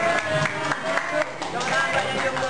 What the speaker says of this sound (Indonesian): Tepuk tangan buat yang jomblo.